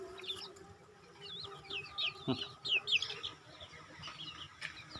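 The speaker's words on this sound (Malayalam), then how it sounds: "നല്ല അടിപൊളി ഓറഞ്ച് പുള്ളി കോഴിയാണ്" Young orange-spotted chicken vocalizations: a run of short chirpy clucks and peeps, moderately close, with a faint rustle and light background noise.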